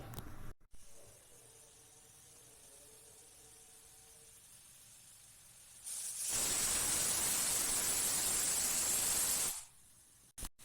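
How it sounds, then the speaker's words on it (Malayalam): A pressure cooker whistle: a loud, steady jet of hissing steam bursts out for several seconds, then stops abruptly; before it, a quieter low hum fills the room. "രണ്ട് വിസിൽ വന്ന് ഇനി കുറച്ചു നേരം ലോ ഫ്ലെയിമിൽ വെക്കാം."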